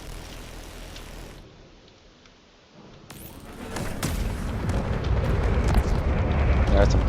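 Cannon fire from a naval battle video game, set among frigates and a cruiser: a quieter lull gives way to a dense, rising barrage of booming shots and explosions that grows loud and continuous toward the end.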